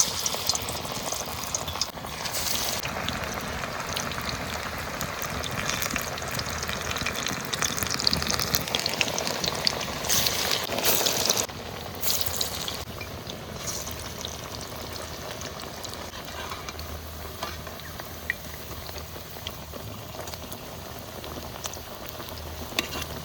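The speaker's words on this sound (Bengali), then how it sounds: "আজকে সর্ষের তেল দিয়ে পেঁয়াজি ভাজবো।" Onion fritters (peyaji) frying in hot mustard oil bubble and hiss in a dense, continuous sizzle, close and steady throughout, with no talking.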